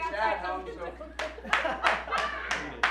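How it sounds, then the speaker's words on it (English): A single person claps slowly, about six sharp, evenly spaced claps following a stretch of talk and laughter among several people on a live podcast. "Robbie's doing his own slow clap."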